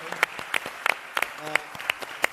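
Conference audience applauding a thanked organiser at a talk on human intelligence in the era of AI, dense overlapping hand claps with sharp repeated transients, fairly near, with a brief voice sounding through the clapping.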